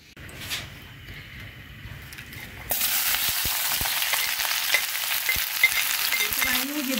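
Two large chopped onions hit hot oil in a wok for a spicy pickle-style onion dish, and after a quiet start a loud, continuous sizzle begins, with occasional stirring scrapes and pops.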